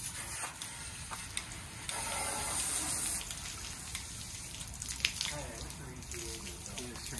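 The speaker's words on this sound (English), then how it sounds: "Right now he's on Super Soaker. Oh, hose setting." A garden hose spray nozzle hisses out water in a steady, moderately loud rush, with shifts in force as the spray setting changes, while people talk in the background.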